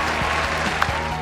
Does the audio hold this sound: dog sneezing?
no